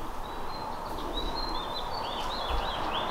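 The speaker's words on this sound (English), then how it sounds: "The birds sound so loud." Birds chirp outside a mobile home, a series of bright, quick calls over a steady, fairly loud outdoor background. The chirps come close together and grow busier toward the end.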